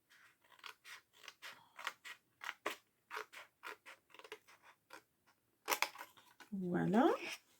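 Scissors snipping through paper for a handmade Christmas advent card, a quiet run of short crisp cuts in a steady rhythm, close up, followed by a brief rustle and a short voiced sound at the end.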